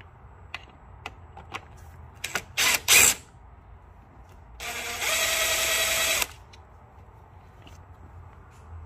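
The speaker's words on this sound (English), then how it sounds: "So cracked them loose with a ratchet." A ratchet cracks loose the nuts on a Porsche Cayenne Turbo 958 air shock mount: a few faint clicks, two sharp loud bursts, then a sustained rasping ratchet run of about two seconds before quiet returns.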